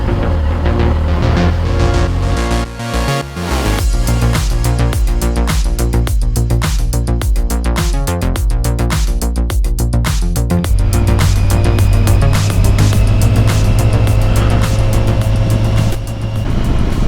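Motorcycle ridden at night after midnight, a loud steady engine drone with wind rush running throughout and shifting pitch as the bike changes speed.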